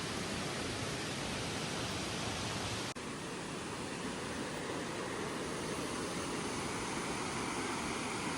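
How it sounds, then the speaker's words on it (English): Waterfall in Tennessee pouring steadily, a dense, even rush of falling water heard close and continuous throughout, with a single faint click partway through and no voices. "That's waterfall number 2."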